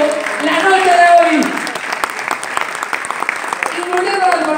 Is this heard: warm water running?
no